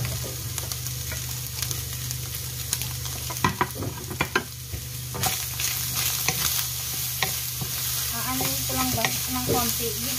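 Carrot and chili are sautéed for bihon, a steady sizzle under repeated spatula scrapes and clinks against the pan, the stirring growing busier toward the end.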